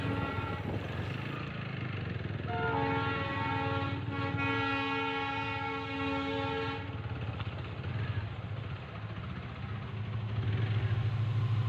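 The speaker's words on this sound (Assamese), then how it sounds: "ট্ৰেইন আহিব চাগে কাৰণে গেট বন্ধ কৰি দিছে চাগে। ট্ৰেইনে আহি আছে এতিয়া" A long, steady train horn blares for several seconds over the rumbling of a train passing a level crossing, heard from nearby.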